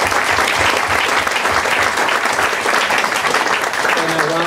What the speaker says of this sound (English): please, a warm applause for all the speakers